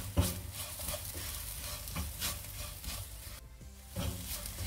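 Okra masala with coriander and pepper powder is stirred in a pan, giving faint scraping strokes over a low frying sizzle, close and quiet with no speech.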